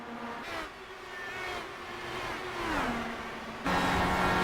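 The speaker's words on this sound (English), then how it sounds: "Hear that engine." IndyCar engine heard from an onboard camera during an oval race at Phoenix, a high-pitched continuous rev that rises and falls through gear changes, loud and steady with no talk.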